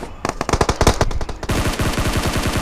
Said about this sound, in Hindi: यहाँ फायरिंग होती है।